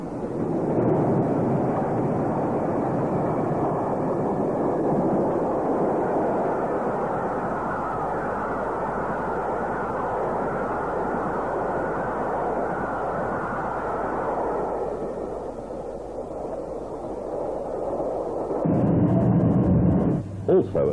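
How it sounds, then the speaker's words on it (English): British Railways Merchant Navy Pacific steam locomotive 35012 at Surbiton in the 1950s gives a loud, steady roaring rumble that eases after a while, then swells in a short burst near the end. "this is Merchant Navy Pacific number 35012 at Surbiton"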